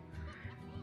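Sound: rooster clucking in video game Slime Rancher

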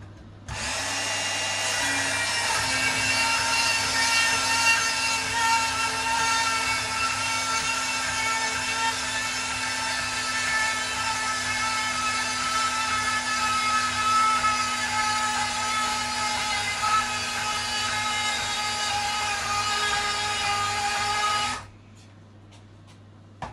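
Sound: changing the blade on a bandsaw

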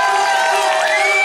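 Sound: carnival crowd applause and cheering

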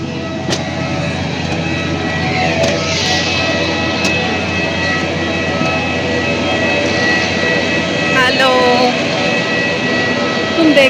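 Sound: airplane landing at Hyderabad

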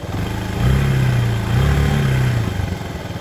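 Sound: Suzuki Djebel 200 motorcycle engine revving

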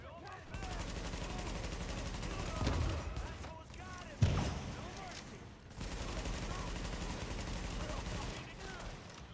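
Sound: gunfire from a weapon in the video game The Division

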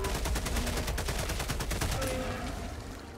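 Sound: shotgun gunfire in the video game Helldivers 2

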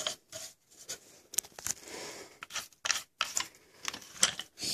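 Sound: adjusting knobs on LED work light stand

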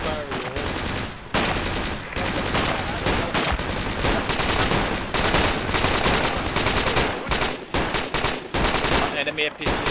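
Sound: gunfire, likely from a video game

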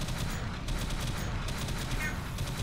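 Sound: gunfire in the Alien Swarm video game

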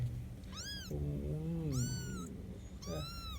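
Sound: mother cat meowing

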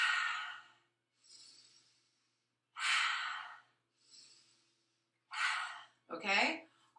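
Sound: breathing in and exhaling with tongue on roof of mouth

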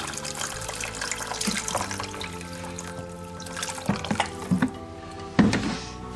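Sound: water being added to pumpkin soup

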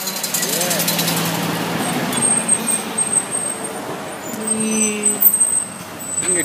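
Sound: Kenworth truck

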